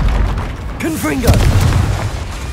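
Blast of the Confringo spell in Hogwarts Legacy, a loud booming explosion with rumbling low end, heard alongside a voice.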